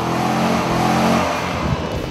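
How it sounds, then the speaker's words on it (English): A Mercedes SLK 55 AMG convertible's engine roars close by, a loud, rich exhaust note that swells and eases as the car revs and changes pitch, with no talking. "you can hear the roar from the engine, every pop and crackle from the exhaust when you downshift"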